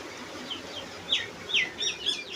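Small chicks on a poultry farm peep in quick, high, downward-sliding calls, faint at first and then clustering into several clearer chirps over a steady low background hum.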